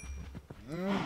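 A cow in the Minecraft survival video game gives a short, rising moo after a few soft thumps, close and clear with no talk over it.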